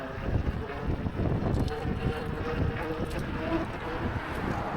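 Wind blows steadily outdoors on a cloudy day, a continuous low rumbling roar that buffets the microphone, loud and close throughout with no pauses and no speech.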